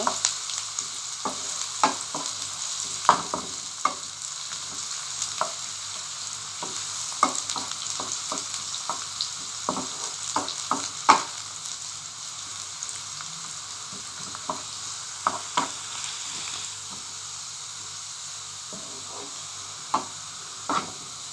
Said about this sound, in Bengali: ভালো করে একটু ভেজে নেব, ব্রাউন কালার করে নেব যাতে পুড়ে না যায়। একটু নেড়ে চেড়ে দিব।